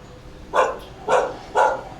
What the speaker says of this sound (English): They're just barking at their neighbor